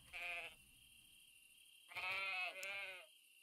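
Sheep bleating in the farming game Everdream Valley, two clear nasal bleats, a short one and then a longer wavering one, near and alone over faint background hiss.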